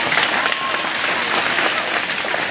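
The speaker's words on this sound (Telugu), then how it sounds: "అందరు గట్టిగా చప్పట్లు కొట్టండి." A crowd at a public function claps for an assembly member, a dense, steady wash of applause close and loud throughout, with some voices mixed in.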